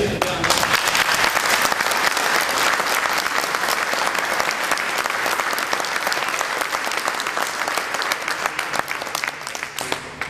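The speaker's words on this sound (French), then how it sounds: "Vous pouvez encore une fois, je pense, l'applaudir." Sustained audience applause for a retiring firefighter at a fire company ceremony in Vernier, a dense, steady crowd clapping that holds loud for the full stretch without voices breaking through.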